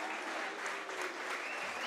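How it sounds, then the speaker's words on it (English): A rugby league crowd at a Hull KR match gives a broad, continuous roar of booing and noise, heard from a distance and filling the whole stretch evenly. "they're all booing again."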